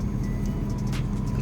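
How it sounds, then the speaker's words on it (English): A truck engine idles nearby, a steady low diesel rumble that drones continuously through the short stretch, with faint clinks over it. "Sorry if you can hear the truck idling."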